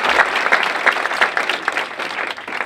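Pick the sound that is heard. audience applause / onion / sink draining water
audience applause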